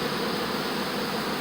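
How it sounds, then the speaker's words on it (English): A honeybee swarm with many drones in flight gives off a steady, dense, loud buzzing drone that stays unchanged from start to finish. "the swarm makes a very loud noise because of all the drones that are in the swarm"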